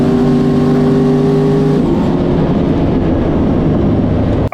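A turbocharged LS-swapped car on a race track roars loudly and continuously, its engine drone holding steady tones before shifting pitch partway through, close and alone without talk.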